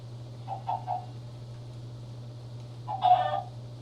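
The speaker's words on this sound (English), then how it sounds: "Now, the chicken is annoying." A chicken clucks in the Minecraft video game: two short bursts of soft, rapid clucks, one early and one near the end, over a steady low hum.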